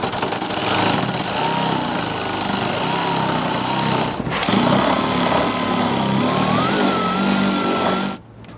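A power tool, likely an impact wrench, loosens a nut holding the spoiler on a Mustang's trunk, its loud, steady mechanical whir running continuously for about eight seconds before cutting off abruptly.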